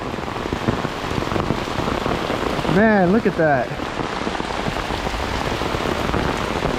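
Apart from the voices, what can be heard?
heavy rain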